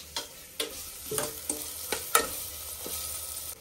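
Chicken pieces dropping and sizzling in ginger garlic paste, a series of sharp crackling bursts and stirring scrapes over a soft frying hiss, close and fairly loud.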